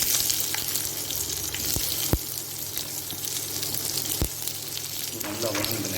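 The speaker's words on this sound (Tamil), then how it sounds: "கிளறி விட்டு ஆனியன் ஆட் பண்ணிக்கலாங்க." Onion sizzling in hot oil with curry leaves and red chillies for South Indian carrot rice, a steady close frying hiss with a few sharp spoon knocks against the pan and no talk.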